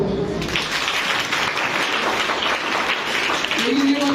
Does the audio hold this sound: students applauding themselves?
yes